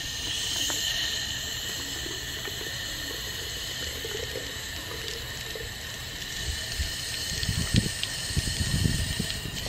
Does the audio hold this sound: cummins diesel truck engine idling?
no